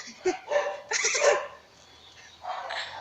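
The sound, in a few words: several dogs barking while being walked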